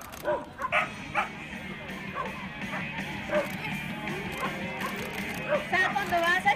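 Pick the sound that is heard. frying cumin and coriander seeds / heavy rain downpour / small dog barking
small dog barking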